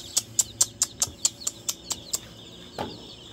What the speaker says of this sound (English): Just had a bunch of more baby quail hatch.